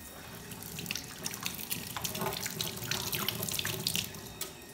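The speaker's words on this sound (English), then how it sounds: "The first step is wet hands." A tap runs into a sink as hands are wetted for hand washing, giving a steady splashing stream with small drips and spatters over a few seconds.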